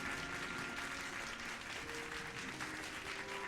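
A crowd of nobles applauds in Final Fantasy XIV, a steady, dense wash of clapping that runs unbroken from start to finish with no speech over it.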